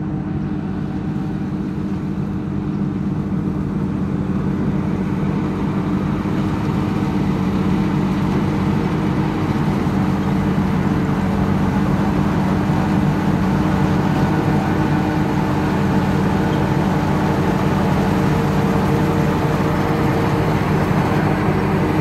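A heavy combine harvester engine drones continuously with a low, steady rumble and a faint howling whine layered on top, close and unbroken throughout.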